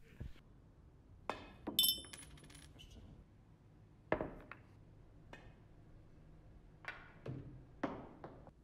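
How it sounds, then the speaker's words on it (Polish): A coin drops into an empty glass with a bright ringing clink, followed by several more sharp metallic taps and rattles spaced apart, close and clear. "Pierwszy trickshot polega na wrzuceniu monety do pustej szklanki"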